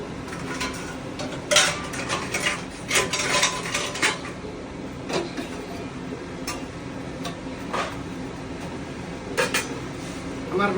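Plates and cutlery clink and clatter as a table is set for a meal, with sharp scattered knocks of dishware and spoons over a low room background, occasionally alongside faint talk.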